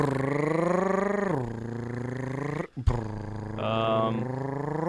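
A voice imitates a lawnmower engine, a steady buzzing drone that drops in pitch, breaks off briefly, then resumes loud and close.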